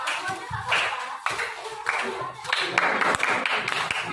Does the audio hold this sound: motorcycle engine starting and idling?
no